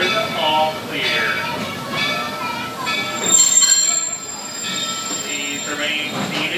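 The Walt Disney World Railroad steam train slows at the Magic Kingdom, its wheels squealing in drawn-out high tones over rolling rumble, with an amplified announcement voice talking over it.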